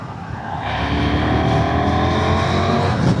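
KTM 990 Duke R motorcycle, 2026 model, accelerating hard up to 60, its engine note rising steadily and loudly in pitch for several seconds, heard close from the rider's position with wind noise.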